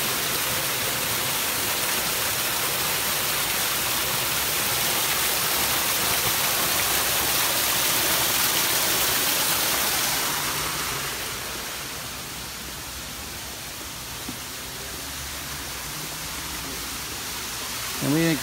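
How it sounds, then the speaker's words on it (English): Garden waterfall in a landscaped hardscape setting, a broad steady rushing roar of falling water that continues throughout and eases slightly partway through, heard close and loud. "this waterfall. And this is one of my favorite waterfalls"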